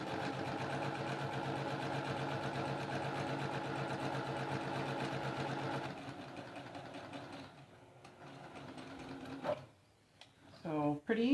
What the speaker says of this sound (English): scoot this over, and sew down the other side